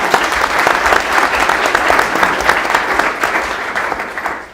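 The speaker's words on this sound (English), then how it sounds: "let's give her a round of applause" An audience at a county board of commissioners meeting applauds with steady, dense clapping that holds for several seconds and tapers slightly at the close.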